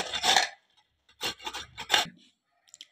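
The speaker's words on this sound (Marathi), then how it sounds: "आता आपण हे गाजर या किसणीने किसून घेऊया।" Carrots are grated on a hand grater, giving short scraping rasps in separate strokes, one longer stroke followed after a pause by three quick ones, close and fairly loud, with faint clicks at the end.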